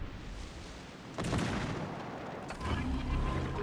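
Warship guns in the naval game World of Warships Legends, two heavy booming salvos a second or so apart over a constant rumble of sea and engine noise.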